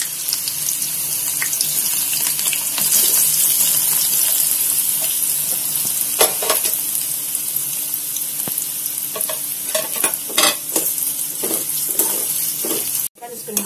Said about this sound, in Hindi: प्याज अपन लाल अच्छी तल लेना, बादामी रंग करके